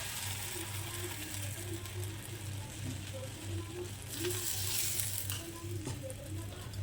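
Bread omelette egg mixture frying in oil in a pan at home, a soft continuous sizzle with faint crackles and a low steady hum underneath, quiet and close throughout.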